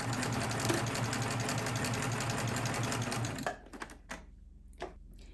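Serger sewing machine stitching knit fabric, a steady fast mechanical whir with rapid needle chatter for about three and a half seconds, then stopping, followed by a few soft handling clicks.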